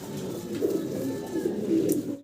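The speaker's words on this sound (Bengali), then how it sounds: "বার্নিল শর্ট ফেস কবুতর" A short-faced fancy pigeon coos softly in a few low, rolling murmurs, close by, over a faint background hum.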